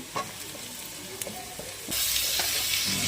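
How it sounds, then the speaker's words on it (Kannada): Peanuts, onion and curry leaves fry in a pan with a close, steady sizzle and a few spatula taps, the sizzle swelling louder as more goes in. "ಸ್ವಲ್ಪ ನೆಲಕಡಲೆ ನೀರುಳ್ಳಿ ಕರಿಬೇವು ಹಾಕ್ತಾ ಇದ್ದೇನೆ ಫ್ರೈ ಆಯಿತು ನೀರುಳ್ಳಿ"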